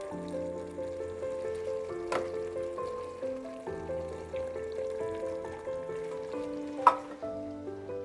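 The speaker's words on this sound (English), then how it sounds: "I'm going to start adding in the rest of the ingredients, like the tomato sauce" Tomato sauce goes into a pot of sizzling beef, with soft steady frying, gentle stirring scrapes and a couple of sharp clinks from a utensil, close and fairly quiet, with no talking.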